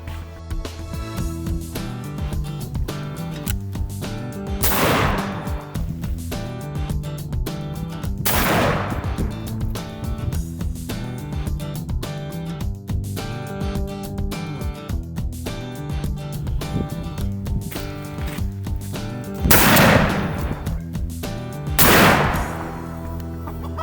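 Winchester 20 gauge shotgun fired at an outdoor range: four distinct shots a few seconds apart, set under continuous music.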